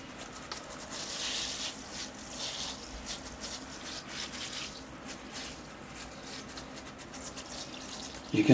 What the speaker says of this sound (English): You can see the tray is filling with water.